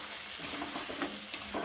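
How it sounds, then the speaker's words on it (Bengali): Rice tossed into a pan with vegetable stalks already fried in cumin and chili sizzles softly, with a few sharp scrapes of stirring, quiet and steady. "এবার ভাজা ভাজা হতে থাক।"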